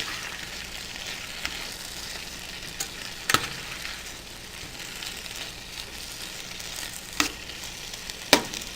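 A strong herb mixture for Jamaican ackee and saltfish sizzles steadily in a pan, with a few sharp pops and stirring clinks rising above the constant frying hiss.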